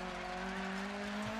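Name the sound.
car engine roaring in DiRT 4 video game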